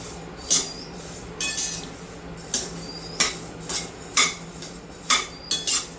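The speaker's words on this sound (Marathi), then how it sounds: "मसाले सारखे हलवत बसायचे, जेणेकरून ते थोडे पण जळायला नको" A metal spoon scrapes and clinks against a pan while whole spices for a homemade Kokani masala, including coriander seeds, are dry-roasted and stirred, giving a string of sharp, close ticks at an unhurried, irregular pace.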